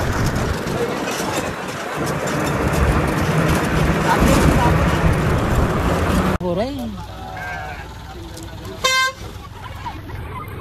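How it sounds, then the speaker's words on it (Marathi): A flock of sheep crowds around a vehicle stuck on a road, with a loud, rushing rumble at first, then scattered close bleats, a short horn toot and people talking. "बघू शकता मेंढ्या आमच्या गाडीमध्ये अटकलेल्या आहे."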